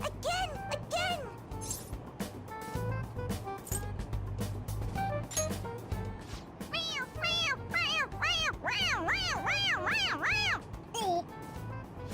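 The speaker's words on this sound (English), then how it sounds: "It meows when you press on its head." A squeaky toy cat in Persona 5 Royal gives repeated electronic meows when its head is pressed, several bright rising-falling cries over steady game music, growing more frequent toward the end.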